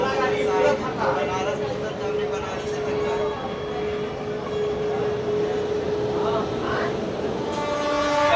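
An Amrit Bharat Express train running just after leaving Durgapur: a steady, loud rolling rumble of wheels and carriages fills the clip, with a sustained tonal hum running under it throughout.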